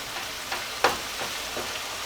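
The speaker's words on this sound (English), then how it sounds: "I think that my onions have cooked enough right now" Onions cooking in a pan, heard as a faint steady sizzle with a few soft scrapes and one sharper tap, close by and without talk.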